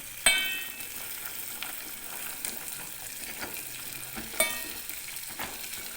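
Almonds and cashews dry-roasted together in a pan for dry fruit coconut sesame laddoos give a soft scraping rustle, with sharp clinks of a spoon against the pan at intervals.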